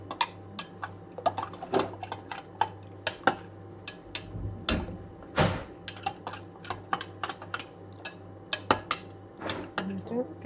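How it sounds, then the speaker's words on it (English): A spoon scrapes and clinks against a pan while cheesy milk is stirred, the taps coming in quick irregular bursts over a low steady hum. "Just gonna stir it until all the cheese has incorporated."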